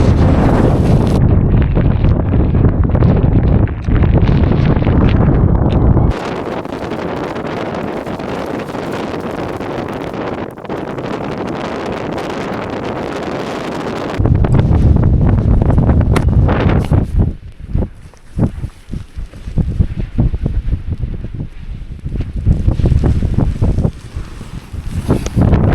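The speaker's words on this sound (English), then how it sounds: "it's pretty windy" Strong wind of around 40 mph buffets the microphone at a wild campsite in loud, continuous gusts, with roaring low rumble that surges and drops over the whole stretch.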